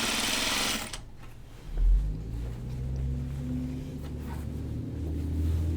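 Sewing machine stitching dress hems, a brief loud whir at the start, then a lower steady motor hum with a short surge, close by and without talk.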